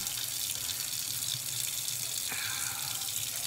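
Steady rushing of water from a tap while hair is being washed, a constant close hiss with a slight change in flow partway through.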